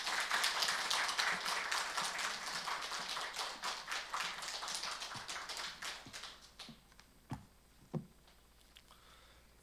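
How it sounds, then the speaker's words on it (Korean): A church congregation claps to welcome a pastor to the front: a dense, loud round of applause that thins after several seconds into a few scattered, separate claps. "우리 나오실 때 그 마음을 담아 박수로 환영하겠습니다"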